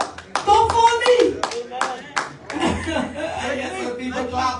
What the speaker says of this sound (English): got some people clapping down there.